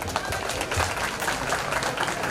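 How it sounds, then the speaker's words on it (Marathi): An audience at a religious discourse gathering applauds in a dense, continuous wave of clapping that stays loud and even throughout. "आपण स्वतःसाठी सर्वांनी एकदा टाळ्या वाजवायच्या"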